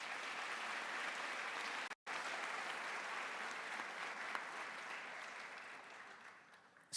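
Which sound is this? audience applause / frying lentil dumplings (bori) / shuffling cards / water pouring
audience applause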